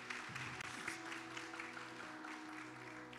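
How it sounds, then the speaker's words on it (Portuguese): Church congregation clapping during a service, a soft, fairly distant patter of many hands with a steady sustained tone humming beneath it. "Uma salva de palmas para o Senhor aqui"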